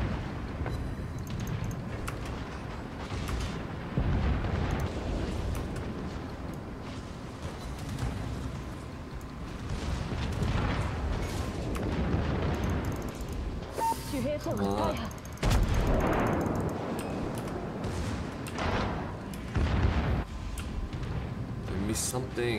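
Naval guns and secondary batteries fire from warships in World of Warships, heavy booming salvos and rapid shots piling up in a dense, continuous battle din with recurring louder bursts.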